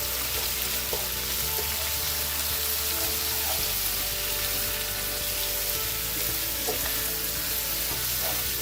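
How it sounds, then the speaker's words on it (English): Onions frying and browning in a pan with cashews for ghee rice, a steady close sizzle running throughout with occasional stirring scrapes and no talking. "You want to brown the onions really well."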